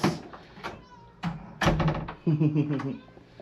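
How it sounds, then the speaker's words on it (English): A cat meows twice up close, its drawn-out cries mixed with sharp knocks and thumps like a cupboard door. "And here comes Kitty."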